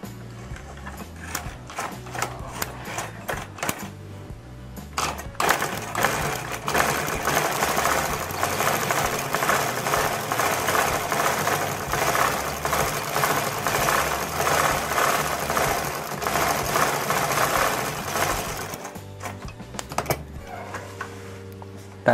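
Sewing machine stitching a hidden buttonhole on a koko shirt, a fast, continuous mechanical rattle running for about fifteen seconds between quieter handling noises, close and loud.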